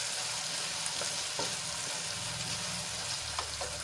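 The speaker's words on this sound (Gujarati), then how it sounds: "રીંગણા અને ચોળી થોડુંક સંતળાઈ ગયું છે" Brinjal and cowpeas sauté in a pan with a steady close sizzle, broken by a few soft scrapes and clicks of stirring.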